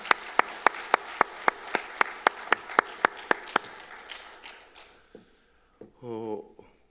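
A congregation at a church worship service claps in a steady, slow unison rhythm of about a dozen beats, then it stops and a voice briefly speaks and sings at the end.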